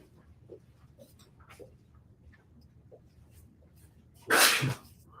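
One short, sharp sneeze bursts out near the end in a quiet room where clay birds are being cut, after faint scattered small handling noises.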